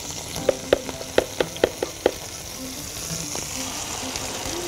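Tomatoes going into a frying pan for kofta with sweet peppers, with a steady sizzle underneath a run of sharp, evenly spaced clicks and taps near the start, then a quieter ongoing fry.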